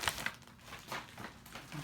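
Thin plastic bag crinkling up close during the unboxing of an authentic Adidas LeBron James basketball jersey, with soft irregular rustles and crackles spread across the moment and no talking.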